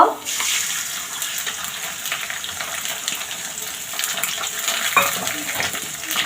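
Eggs added to a hot oiled pan for homemade pasta, frying with a steady crackling sizzle close by and faint stirring scrapes, no talking.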